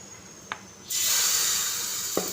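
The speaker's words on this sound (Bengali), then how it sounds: "এখন কিছুটা ব্যাটার দিয়ে দেব প্যানের মধ্যে।" Spring roll batter poured into a hot, oiled pan bursts into a sudden, loud, sustained hiss that fades slightly as it continues. It is preceded and followed by single light utensil taps, with no voices.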